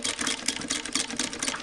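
A Singer Model 20 toy sewing machine stitches a quarter inch from a fabric edge, giving a quiet, continuous rapid whirring chatter with a steady pulsing rhythm.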